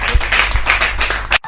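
Brisk applause and hand clapping in a radio studio, a short burst of dense claps from a few people, close and lively, cutting off abruptly at the end.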